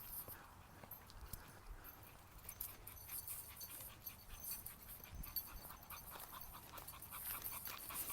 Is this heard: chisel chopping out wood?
no